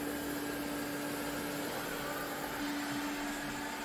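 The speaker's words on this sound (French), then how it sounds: "Là il fait sa petite balade avec l'aspirateur robot." A Eureka J12 Ultra robot vacuum-mop roams a large living room with a steady, soft whirring drone and a faint tonal hum, continuous and even throughout.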